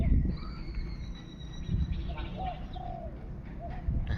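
Soft decoy dove coos repeat a few times over a steady low rumble of traffic, with faint higher bird calls in the background.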